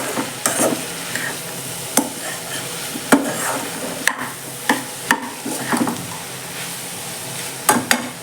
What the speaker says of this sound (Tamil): இன்னும் கொஞ்சம் வதங்கணும் இன்னும் கொஞ்சம் காய் வேகணும் நல்லா வதங்கட்டும்